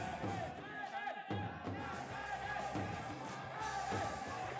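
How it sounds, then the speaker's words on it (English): A crowd cheers at a powerlifting competition in Pattaya, a dense, steady roar of many voices with yells rising and falling throughout. "The crowd liking that."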